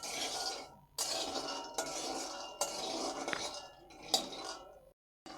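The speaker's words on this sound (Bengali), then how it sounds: "লো ফ্লেমে একটু এভাবে নেড়ে চেড়ে ভেজে নেব।" Dry peanuts roast in a hot kadai over a low flame and are stirred, giving bursts of rattling, clinking scrapes separated by brief pauses.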